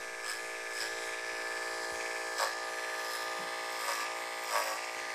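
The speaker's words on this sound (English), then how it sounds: "We're starting out with our detachable blade clipper with one of our longer blades, a 3/8 of an inch" A detachable blade hair clipper with a 3/8-inch blade hums in a steady, close electric buzz during a skin fade haircut, with brief rises as it moves through the hair.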